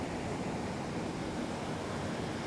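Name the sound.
ocean waves at Boca Raton beach, Florida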